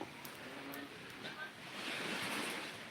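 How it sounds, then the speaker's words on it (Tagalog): Sea waves wash ashore at Mansalay beach, a broad steady roar of surf with wind noise, rising slightly toward the end, alone without talk. "nandito po tayo sa dagat ng Mansalay ngayon"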